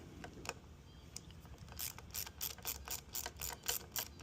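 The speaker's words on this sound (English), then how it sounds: "Let me grab my socket and back this thing out." A socket ratchet backs a bolt out of a brake lever on a 2025 Kawasaki Ninja 500, giving a quiet run of quick clicking pawl strokes that grows busier and more regular toward the end, close up with no voices.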